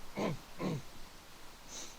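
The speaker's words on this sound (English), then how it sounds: "No, a cough will do." Two close coughs from a man in quick succession, a short pause between them, followed by quiet breathing and low background noise.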